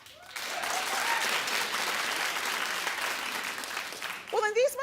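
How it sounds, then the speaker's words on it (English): A talk-show studio audience claps in a thick, continuous wash of applause, steady throughout, then a voice cuts in briefly at the very end as the clapping fades. "Clap if you find her gorgeous."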